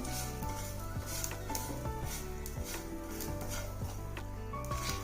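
Poppy seeds roasting in a pan with dry fruits, a soft, steady crackle with light stirring scrapes and occasional metal taps, fairly quiet and close, no talking.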